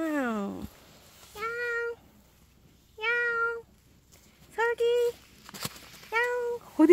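A cat meows repeatedly, several drawn-out, close and clear cries separated by short pauses.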